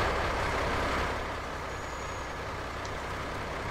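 A Kenworth K100 truck in Farming Simulator 19, a steady engine drone with a hissing air sound that eases after the first second, with no talk.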